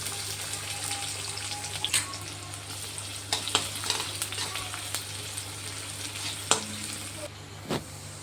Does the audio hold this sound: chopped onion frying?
yes